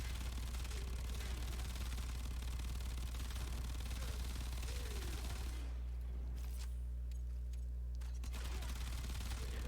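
Rapid automatic fire from the Tenora rifle in the game Warframe, a dense continuous burst of shots that cuts off abruptly partway through before a few brief trailing sounds.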